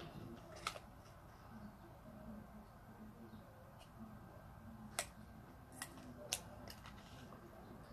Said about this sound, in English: I'm just gonna cut off the little paper on it.